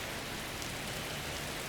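Steady rain falls in the video game Skyrim, a soft, even hiss of drops on surfaces, faint and unbroken.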